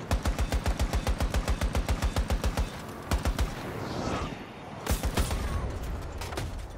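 Rapid automatic rifle fire from an M5A3 in Battlefield, a steady run of about twenty close shots for three seconds, then short bursts over game ambience.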